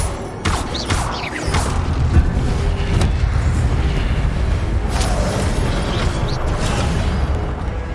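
Fire spell cast in the Hogwarts Legacy video game: a steady roaring, crackling rush of flame with a few whooshing bursts near the start, loud and continuous throughout.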